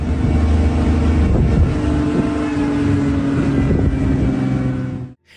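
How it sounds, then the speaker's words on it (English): A car engine revs loudly while the car reverses through a forest, a steady, heavy, close drone that holds throughout and cuts off abruptly at the end. "The forest echoed with the sounds of the car's engine"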